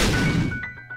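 A bomb detonates in the video game Binding of Isaac: Rebirth: one loud, booming blast right at the start that rolls off over the following second, with faint game tones ringing underneath.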